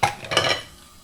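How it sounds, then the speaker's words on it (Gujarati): A teaspoon of dry cumin seeds dropped into hot oil in a cooking pan gives a brief crackling sizzle with a light metallic scrape, close by and fading within a second. "ચલો ગાઈસ તો 1 ટીસ્પૂન જીરું નાખી દઈએ આપણે."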